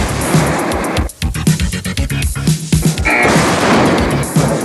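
USS Missouri battleship guns firing at prefabricated Iraqi bunkers, heard as a loud, dense barrage of booms and cracks that runs almost continuously, with a brief lull near the one-second mark.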